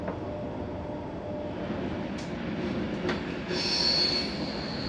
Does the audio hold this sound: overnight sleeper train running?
yes